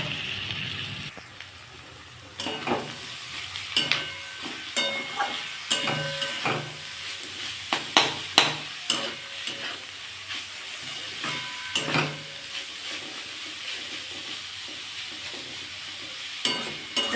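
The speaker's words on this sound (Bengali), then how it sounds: "কাঁকরোলটা দিয়েও খানিক্ষণ ভেজে নেবো আমি" Pieces of teasel gourd (kakrol) fry in hot oil in a pan, a continuous close sizzle broken by repeated scraping and clinking strokes of a spatula as it is stirred.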